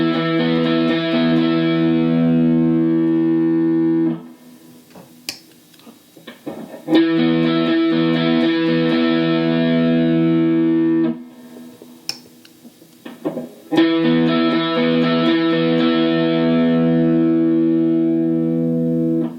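Electric guitar driven hard through a VHT V-Drive overdrive pedal at very high gain, thick sustained distorted chords ringing loud in two long blocks, broken by brief quiet gaps with faint handling noises.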